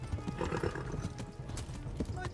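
A horse in the Kingdom Come: Deliverance video game clip-clops along at a steady gait and lets out a whinny, moderately loud and close, with a voice talking over it.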